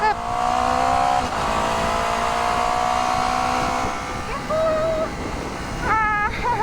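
A 2023 Honda CBR250RR 250cc motorcycle accelerates onto an expressway. Its engine note holds and rises through gear changes under a steady, loud rush of wind, heard close from the rider's position.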